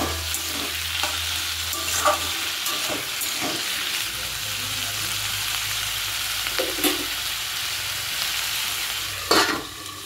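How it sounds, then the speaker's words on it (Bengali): Potatoes fry in a pan as they are stirred with the lid off: a continuous close sizzle with repeated scraping strokes of a spoon against the pan. "এই যে এবার আমি ঢাকনাটা সরিয়ে ভালো করে নাড়াচাড়া দিয়ে নিচ্ছি।"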